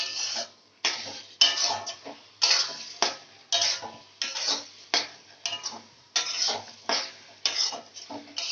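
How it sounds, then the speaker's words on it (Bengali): A spoon scrapes and clacks steadily against a pan while a cashew and poppy seed paste is stirred for chicken rezala, about a dozen rhythmic close strokes with faint sizzling and no voices. "এবার দিয়ে এটাকে ভালো করে নাড়তে হবে।"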